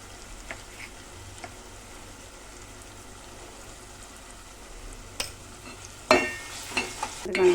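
Masala paste of ground coconut, sesame, peanuts, ginger and garlic is stirred in oil for gutti vankaya curry, with a low steady sizzle and a few sharp spoon scrapes near the end.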